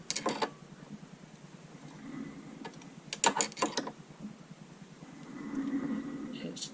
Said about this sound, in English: It's just beginning to cut a thread.